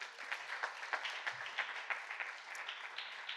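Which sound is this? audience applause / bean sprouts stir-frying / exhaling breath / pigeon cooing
audience applause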